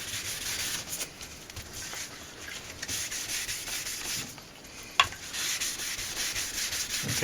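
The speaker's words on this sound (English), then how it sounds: "just give them a gentle sand, try and keep your block square" A sanding block rubs gently by hand along thin edges being polished toward a mirror finish, making a steady, soft scratchy rasp in continuous back-and-forth strokes with one sharp tap near the end and no talking.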